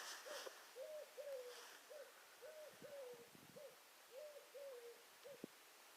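Repeated soft hooting coos from Asian doves, several two-part calls in a steady rhythm, moderately close against quiet outdoor background.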